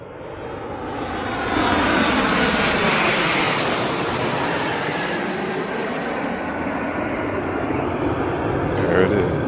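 The Stratolaunch Roc, the giant twin-fuselage aircraft, flies overhead on approach, its broad engine roar building up and holding loud and steady, with voices faintly underneath.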